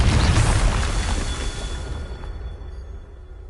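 A Confringo fire spell bursting in Hogwarts Legacy, a loud, deep explosive boom up front that rumbles and fades away over a few seconds.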